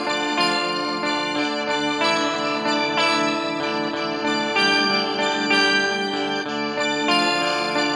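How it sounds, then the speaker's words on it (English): Guitar through a Walrus Audio Luminary octave pedal with a touch of modulation added, so the blended octave chords take on a gentle flutter. Full, sustained, organ-like tones shift every second or so, with no voices. "If you add just a little bit of modulation to that,"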